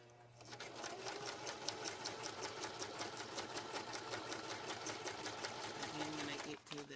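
Sewing machine stitching fabric for a gift bag, a steady rapid needle clatter running for several seconds before slowing and stopping, with a voice heard faintly alongside.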